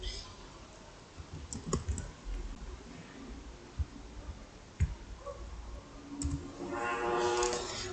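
Typing on a computer keyboard while entering C code, with irregular close clicks and key taps over a steady background hiss and a brief rise in noise near the end.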